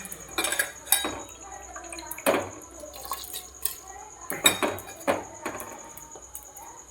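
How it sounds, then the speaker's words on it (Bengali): Rice poured into milk heating on the stove for payesh, with scattered clinks of a pot and spoon, splashy pours and light drips, close and moderately loud, with no voices. "চাউল দিয়ে দিলাম"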